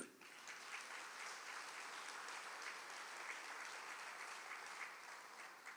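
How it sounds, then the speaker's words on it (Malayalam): Steady audience applause fills a Catholic church talk given by a priest, a dense, even patter of many hands clapping for about six seconds with no speech over it. "ഒന്ന് കൈവർത്തി കൈയടിക്കുക"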